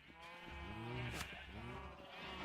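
A sheep in Minecraft gives a drawn-out, wavering bleat, then a second shorter one, clear and close with no talk over it.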